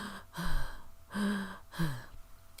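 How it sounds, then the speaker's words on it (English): A man gasps repeatedly, taking three sharp, breathy heaving breaths in quick succession as if struggling to catch his breath, close and fairly quiet. "The man tried to catch his breath."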